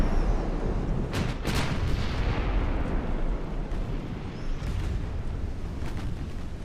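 Warship guns booming in Ultimate Admiral: Dreadnoughts, an 1890-era naval battle, with a couple of sharp reports near the one-second mark over a dense, continuous rumble of distant gunfire, no voices.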